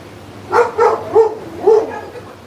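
Dog barking indoors, four close, moderately loud barks in a quick uneven series, alone over a quiet background.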